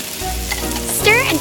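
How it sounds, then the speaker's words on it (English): Garlic sizzles in hot oil in a pan, then potatoes and carrots drop in with a louder burst of frying; steady crackling throughout, close up, with no talk. "Pour oil into the pan. Add garlic to the pan. Continue to add potatoes and carrots."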